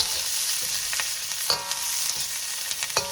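Black pepper chicken with onion is stir-fried in a pan, giving a constant, moderate sizzle broken by sharp spatula scrapes and clatters every second or so, with no voices.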